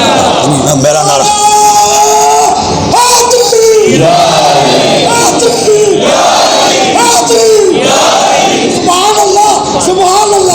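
A religious gathering's crowd chants a slogan in loud, rhythmic call-and-response bursts, with a leading voice and massed voices repeating in waves, close and forceful throughout.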